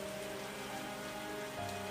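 Steady rain falls and patters on surfaces around a street food cart selling aloo parathas, a soft, even hiss with no voices.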